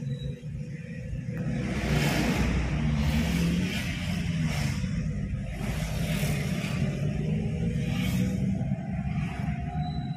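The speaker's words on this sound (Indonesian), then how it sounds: "Nih situasi di jalannya macet teman-teman tuh, karena ada juga arus balik dari Tasik mau ke Ciamis" Cars and motorcycles crawl in a traffic jam on the road to Ciamis, a steady low road rumble with engines swelling and easing as vehicles creep past nearby, with no talk.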